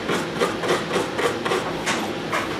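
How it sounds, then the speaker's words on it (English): A wire brush scrubs vintage bicycle mudguard screws in quick, steady back-and-forth strokes, a close, even scratching rhythm heard on its own. "And just giving it a little wire brush."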